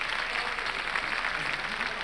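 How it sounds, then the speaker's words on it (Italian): Theatre audience applauding, a dense steady patter of many hands clapping at a moderate distance for a couple of seconds. "Bravi, l'applauso di tutta la platea."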